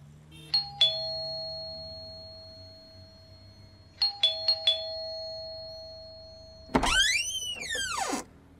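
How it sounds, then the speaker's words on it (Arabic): A doorbell rings at an apartment door on the seventh floor in an Egyptian radio drama, giving one two-tone chime, then three quick presses a few seconds later, followed by a sweeping, swooping electronic tone. "هضرب الجرس اهو"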